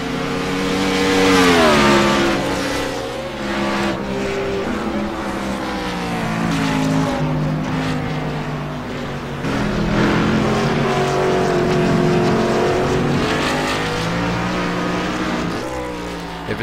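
Race car engines roar in a racing video game broadcast, with sustained high revving that rises and falls through gear changes and passes, loud and continuous throughout.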